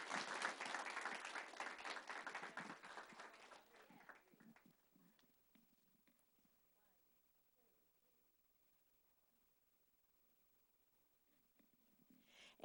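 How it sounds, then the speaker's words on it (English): Audience applause for student math competition winners at a school board of education meeting, a burst of clapping that fades out within about five seconds, leaving near silence. "All right, a big round of applause for our Math Counts students."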